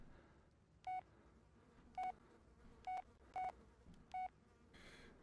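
Five separate touch-tone beeps from a phone being dialed in the horror video game Blair Witch, evenly spaced and clear over a quiet low background hum.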